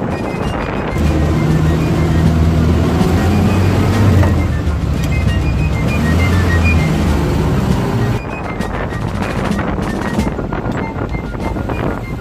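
An old Willys Jeep with a three-speed gearbox rumbles and drones loudly while driving, with heavy wind buffeting the microphone throughout.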